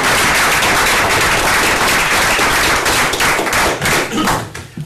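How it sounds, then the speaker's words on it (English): A round of applause at a Town of Abingdon council meeting: loud, close clapping from a roomful of people, sustained with sharp individual claps standing out, thinning briefly near the end. "we could have a round of applause"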